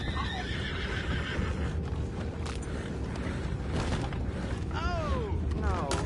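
Horses in the video game Red Dead Redemption 2 neigh and whinny twice near the end, over steady clip-clop hooves and a constant rumbling background, with a voice briefly heard.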